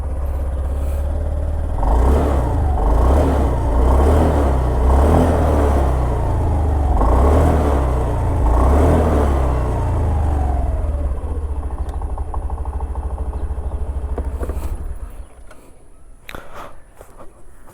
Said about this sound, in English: let's just also hear the exhaust note on both of the scooters